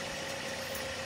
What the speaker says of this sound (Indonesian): ketika mesin mobil dalam keadaan idle